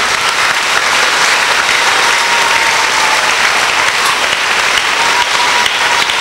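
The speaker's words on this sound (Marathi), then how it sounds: "जोरदार टाळ्या वाजवून प्रभूचं स्वागत करा." Loud, steady applause from a congregation at a Marathi prayer meeting in a church in Naigaon, dense and sustained throughout with no break and no talk over it.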